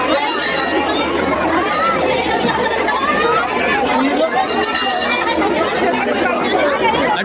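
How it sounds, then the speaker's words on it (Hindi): Crowd of devotees chattering at a temple on Mahashivratri, a dense, loud, unbroken wash of many overlapping voices close by. "अच्छी खासी भीड़ है।"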